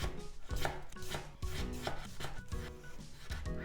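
A knife slices through pickled daikon radish (takuan) on a cutting board for inari sushi, giving a run of close, crisp chopping strokes in an uneven rhythm with brief pauses between cuts.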